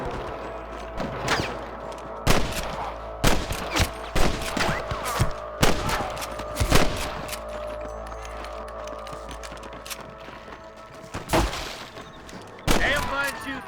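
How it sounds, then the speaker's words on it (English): Scattered gunfire crackles through a Red Dead Redemption shootout on PC, sharp shots and bursts landing in irregular clusters over a steady game backdrop, with a few louder close cracks near the end. "Damn fine shooting, boys."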